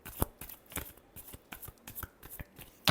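Tarot cards are shuffled by hand in a quick series of crisp riffling snaps and flutters, close and fairly quiet, with no talk.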